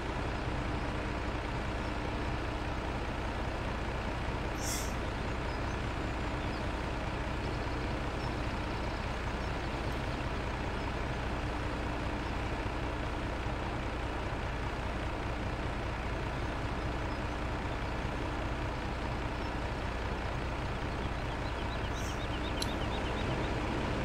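A truck idling in Farming Simulator 17, a steady low engine drone with faint brief air-brake hisses, continuous and unchanging, with no talk.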